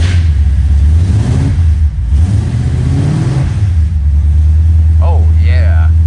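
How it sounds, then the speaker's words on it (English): A 1972 Chevy Nova SS with a big V8 and exhaust dumping just ahead of the rear axle rumbles loudly and steadily on a cold start, its deep idle swelling with revs while someone talks over it. "The exhaust dumps out directly after the mufflers right before the rear axle, so you don't see any exhaust pipes protruding, but boy, you can sure hear it"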